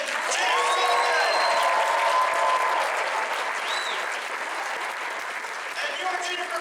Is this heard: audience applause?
yes